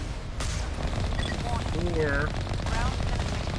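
Gunfire aimed at turrets in Mass Effect rattles in rapid, continuous bursts beneath a voice and game chatter.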